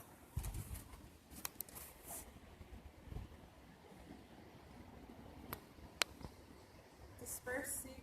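A large flock of roughly 2,000 seagulls passes overhead above a house at about seven in the morning, with faint, scattered calls and sharp cries spread over a quiet, breezy background.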